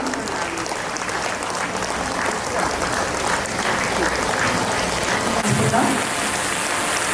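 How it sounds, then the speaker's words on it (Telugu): Audience at a birthday celebration event applauding as the chairman of the Gita Vaibhava Trust is welcomed onto the stage, a continuous, even roar of many hands clapping that carries on throughout. "సగౌరవంగా చప్పట్లతో వేదిక మీదకి ఆహ్వానించుకుందాం"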